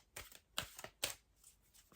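Tarot cards being shuffled by hand in a few quick separate riffles, close and fairly quiet, with no voices during the shuffling.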